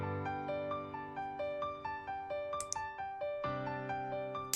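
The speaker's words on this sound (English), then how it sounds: "So I think a reverb from a cathedral" Piano phrase in a home mix, drenched in a cathedral convolution reverb modeled on St. Patrick's: steady repeated notes and chords ringing into a long, wet tail, alone with no talk.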